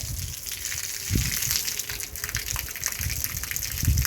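Water gushes steadily from an open pipe, a continuous, fairly close rushing flow with a few louder surges, heard alone without talk.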